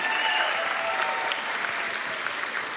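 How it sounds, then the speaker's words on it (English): A crowd applauds steadily, a dense wash of clapping that holds at an even level throughout with no voices standing out. "give them a round of applause"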